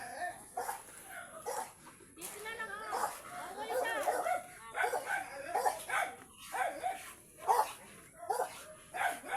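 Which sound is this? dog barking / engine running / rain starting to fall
dog barking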